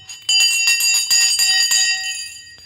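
A loud electric bell rings at the stock market open, a fast rattling clang sustained for about two seconds before it cuts off, close and alone.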